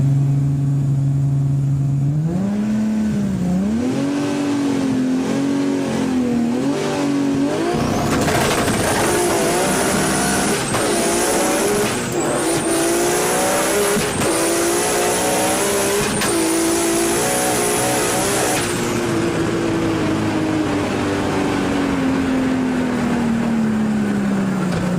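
A high-performance import car on new tyres launches at Sendai Highland drag strip, its engine rising through several sharp upshifts with a high turbo whine, then a long fading roar as it runs away. The sound is loud and continuous, with no talk over it.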